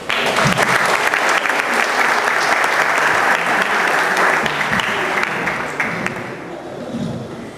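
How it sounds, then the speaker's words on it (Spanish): Sustained applause from a lecture audience welcoming a speaker presenting on Afro-Peruvians, dense and steady throughout before thinning slightly near the end. "La recibimos con un fuerte aplauso."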